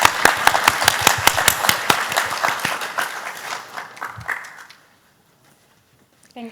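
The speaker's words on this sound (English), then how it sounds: "Please join me in giving Lara-san and Greenleaf a big round of" Audience applause after the introduction of a startup pitch at a sustainability event, with individual claps crisp and distinct at first and then thinning out and fading to silence, followed by a brief soft noise at the end.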